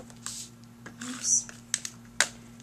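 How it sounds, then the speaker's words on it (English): Light knocks against a camera tripod at a papercraft card-making table: a few sharp taps and a small clatter spread over a couple of seconds, close by and fairly soft, with no speech. "I'm hitting the tripod."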